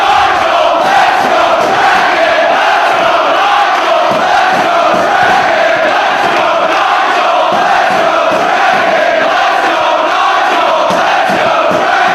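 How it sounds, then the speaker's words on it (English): A large wrestling crowd at a Ring of Honor event in Philadelphia roars continuously, a loud, dense wall of cheering and chanting that holds steady throughout. "This crowd in Philadelphia is split in terms of who they are cheering for in this particular matchup."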